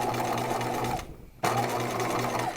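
A sewing machine stitches a gown seam with a steady, close mechanical whirr and hum, briefly pausing near the middle before resuming at the same even pace.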